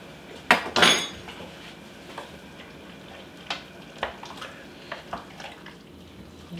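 A spoon scoops rice, squash and onion from a crockpot with a couple of sharp clinks against the pot at the start, then soft scraping and faint taps, close and otherwise quiet.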